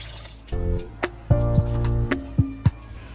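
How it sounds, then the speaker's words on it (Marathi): Chopped coconut pieces being rinsed in water, with splashes, drips and liquid sloshing in a bowl, several distinct wet plops over a few seconds at close range. "आता हे स्वच्छ धुवून घेणार आहे"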